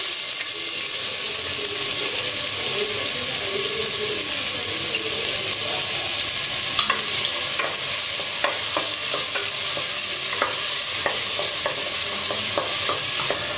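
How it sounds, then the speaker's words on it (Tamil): Three finely chopped onions going into hot oil for a Tamil goat trotter paya curry, giving a steady close sizzle with scattered stirring clicks and scrapes throughout, no voices. "நான் 3 வெங்காயம் எடுத்து நல்லா பொடியாக கட் பண்ணி வச்சுருக்கேன். அதையும் இப்போ எண்ணெயில் போட்டுடுறேன்."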